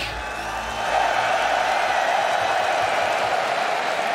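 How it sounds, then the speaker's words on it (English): A large crowd at the Fnatic vs G2 eSports League of Legends grand final in Copenhagen roars and cheers loudly and continuously, a dense wash of voices filling the space without pause. "Sorry, the crowd's really loud."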